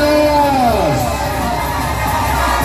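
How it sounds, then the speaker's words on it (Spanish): A crowd of women shrieks and cheers in a loud, sustained burst at an 18th birthday party, with high voices rising and falling together over steady party noise. "a ver el grito de todas las mujeres"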